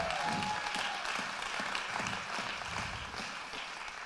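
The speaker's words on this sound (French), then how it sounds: "Denle un aplauso al Señor." A congregation at an evangelistic church service in Paris applauds steadily, a dense wash of clapping that holds for several seconds with faint voices mixed beneath.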